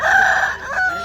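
A rooster at a farm exhibition gives a single loud, close crow that rises and falls over about a second, with no other sounds around it.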